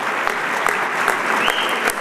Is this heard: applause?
yes